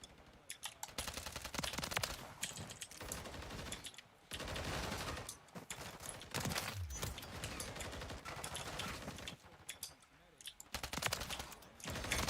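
Gunfire from Call of Duty Modern Warfare 3 rattles in rapid automatic bursts separated by short pauses, loud and close, with a few quieter gaps between volleys.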